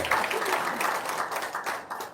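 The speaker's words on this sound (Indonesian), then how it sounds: "Oke, tepuk tangan dulu dong" A small audience at a talk on N3N3N knowledge claps together for a couple of seconds, dense and steady at moderate loudness, with voices mixed in.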